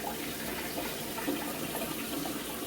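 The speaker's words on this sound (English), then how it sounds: "I just go ahead and siphon it" Water siphoned from an aquarium tank makes a continuous gushing, trickling rush, steady and fairly close throughout.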